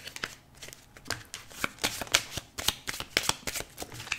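Deck of tarot cards being shuffled and cut up close, a quick uneven run of crisp riffles and soft slaps that keeps going with no talking.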